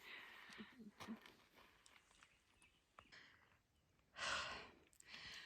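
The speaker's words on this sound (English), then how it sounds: "Sorry for the heavy breathing." Heavy, labored breathing from a cyclist climbing uphill during an Everesting ride in Sun Valley, a series of close sighs and gasps with a louder exhale near the end, over faint outdoor background.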